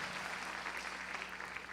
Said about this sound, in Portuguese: Pode aplaudir o Senhor mesmo?